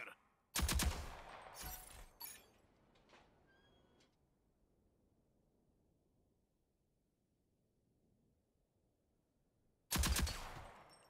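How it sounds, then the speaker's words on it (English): Bursts of rapid gunfire trading with turrets in the Rogue Company shooter on Nintendo Switch, a loud volley near the start, a few scattered shots, a long quiet lull, then another heavy burst at the end. "Hide from the remaining turrets and then return fire."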